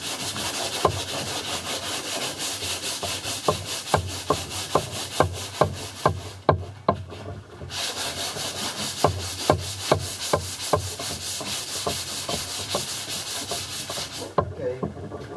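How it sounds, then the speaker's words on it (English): Rhythmic scratchy rubbing of sandpaper on plywood by hand, back-and-forth strokes repeating steadily, close up, with two brief pauses. "watch this area as I sand it"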